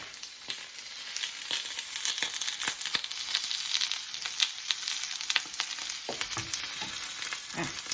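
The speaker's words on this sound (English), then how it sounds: "While this is frying" Food frying in a pan for an orange fennel mascarpone risotto, a steady close sizzle with occasional stirring scrapes and crackles.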